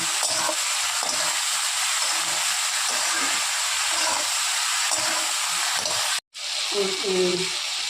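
Steady broadband sizzling of eggplant frying in hot oil with salt and turmeric, continuous and close, with a brief cutoff near the end before the sizzle resumes.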